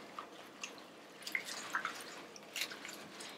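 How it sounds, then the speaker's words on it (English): Lettuce being swished around in a full bowl of water, with soft scattered drips, splashes and gentle sloshing, faint and close with no talking. "you're just going to want to move the lettuce around in the bowl. Kind of agitate it a little bit."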